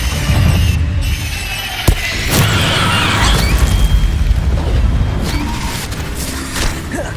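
A Bombarda explosion spell goes off in the Hogwarts Legacy video game, a loud sustained blast with booming rumble and crackling bursts that stay dense and noisy throughout.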